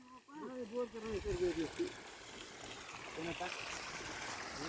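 A voice calls out briefly at the start, then steady running water from a borewell rushes on, a constant moderate splashing flow.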